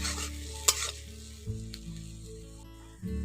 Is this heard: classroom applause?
no